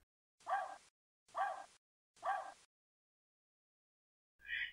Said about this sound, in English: Now for this portion, the dog does not overlap with the speaker.